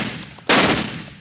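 A rifle shot in a radio western drama on a cattle drive cracks out as a single loud, sharp blast that rings and decays slowly, following a brief quieter stretch.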